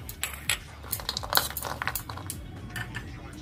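Sprouts salad with almonds, cashews and black and red raisins tossed in a bowl, giving a busy run of light clinks, rattles and scrapes close by, loudest in the middle and steady to the end.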